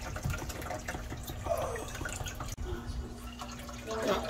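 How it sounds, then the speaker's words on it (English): Palm nut soup liquid drips and trickles through a fine strainer into a bowl, a steady wet pouring and dripping with a faint background hum and no talk. "I'm straining it again the second time into the other bowl"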